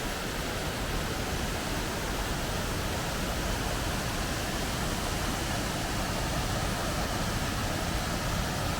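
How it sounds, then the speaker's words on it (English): A waterfall beside the John Muir Trail in the High Sierra gives a steady, loud broadband roar with no variation across the clip, close and unbroken, with no voices over it. "See this waterfall?"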